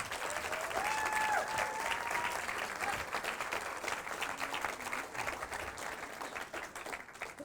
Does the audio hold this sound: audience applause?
yes